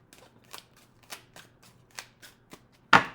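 A deck of tarot cards being shuffled by hand gives a series of soft riffling bursts at an uneven rhythm, ending in one louder, closer flurry.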